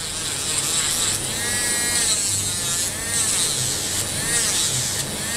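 A high, whining electric nail sander buzzes steadily while removing the top layer of gel nails, its pitch rising and falling slightly as it works, close and fairly loud.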